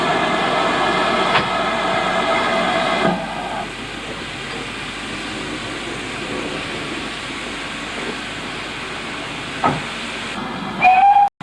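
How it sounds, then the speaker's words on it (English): Steam locomotive 4277 on a North Yorkshire moors line, hissing steadily with chuffing as it pulls coaching stock out of the platform toward Grosmont, with a shrill whistle blast near the end. "With the 18-mile journey through Newtondale and over the moors ahead of it, the train departs for Grosmont."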